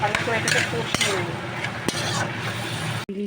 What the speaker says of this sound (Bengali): এবার ভালো করে এটাকে কষিয়ে নেব।